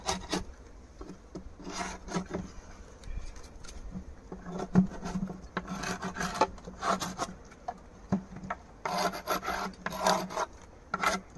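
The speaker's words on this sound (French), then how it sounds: "Je vais nettoyer le couvercle." Scraping a beehive lid clean at an apiary: irregular rasping and scratching strokes of a tool across wood, close and fairly quiet, with bursts of quicker scraping and faint buzzing in the background.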